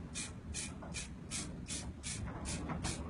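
Spray can or spray bottle misting a wooden sign before sanding, eight short evenly spaced hissing bursts in a steady rhythm over a low background rumble, close and moderately quiet.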